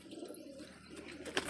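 Domestic pigeons, desi and Punjabi flying birds, coo softly in a loft, with low, throaty calls close by and a brief louder rustle at the end.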